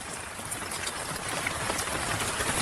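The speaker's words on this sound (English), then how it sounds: "The rain begins to soften, the sky weeping its final tears over the red earth." Steady rain falls on open savanna over red earth, a dense even hiss of drops close by that holds throughout the short stretch, with no voices.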